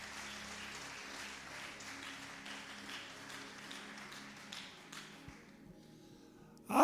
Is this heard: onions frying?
no